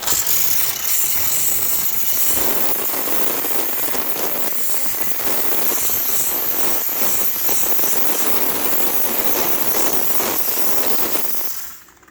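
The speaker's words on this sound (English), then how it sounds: "We are in the kitchen area using the steamer." A steam cleaner works in a kitchen during a move-in house clean, its hot steam melting grease, giving a steady loud broadband hiss with crackling texture that runs continuously for about eleven seconds before cutting off.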